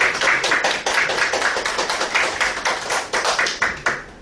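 A church congregation at a Friday prayer meeting claps in welcome for visiting missionaries, a steady run of sharp close hand claps that fades at the end.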